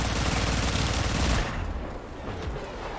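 Rapid automatic gunfire in Warframe, a dense continuous burst of loud shots for about a second and a half that then cuts off into quieter, lighter firing and background game noise.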